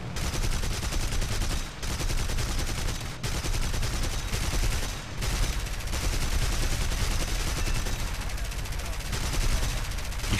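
Gunfire in War Thunder fighting over Peleliu Island: dense, sustained machine-gun bursts rattling loudly for several seconds, broken by a few short pauses, with a player's voice talking over it at times.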